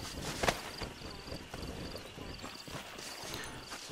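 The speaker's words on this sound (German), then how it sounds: "Okay, das sind Pferde, ich hoffe, die leben noch." Horses' hooves clip-clopping in the Wild West setting of the video game Red Dead Redemption, a steady, moderately close hoof rhythm over a continuous rumbling ambient bed, with no talking.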